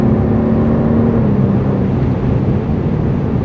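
A luxury car with a 3.3 V6 drives under load, a loud, steady engine drone heard from inside the cabin, with a brief dip in pitch suggesting a quick gear change.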